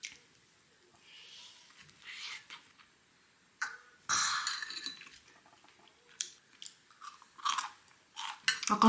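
Someone chews a Lotteria burger with lettuce up close, with soft crunchy bites and moist squishy chewing in irregular bursts separated by near-silent pauses.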